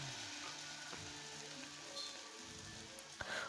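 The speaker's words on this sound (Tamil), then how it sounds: "இப்போது இதை நம்ம எண்ணெயில் போட்டுடலாம்." Battered cauliflower pieces for Gobi 65 frying in hot oil give a steady, soft sizzle and crackle throughout, with a couple of small sharp pops near the end.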